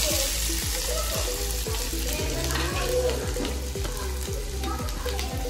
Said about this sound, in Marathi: त्यात आता शिमला मिरची टाकून घेऊया